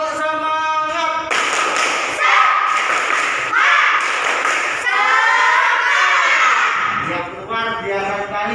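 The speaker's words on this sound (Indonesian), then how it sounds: "ayo kita tepuk semangat dulu ya. Tepuk semangat. Sekali lagi yang lebih keras." A classroom group performs the Indonesian 'tepuk semangat' spirit clap, with rhythmic bursts of many hands clapping together, loud and close, mixed with chanting voices and a leading voice.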